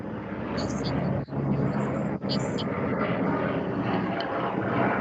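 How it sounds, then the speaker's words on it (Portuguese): Airplane passing overhead during a tutoring session, a steady broad rumbling roar that holds through the whole stretch, fairly loud and continuous, with voices talking over it. "Passando avião aqui uma hora dessa."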